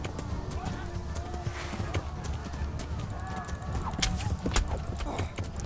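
A horse gallops in the medieval game Kingdom Come: Deliverance, with rapid, rhythmic hoof clip-clops running throughout and occasional faint whinny-like tones over a continuous low ambient rumble.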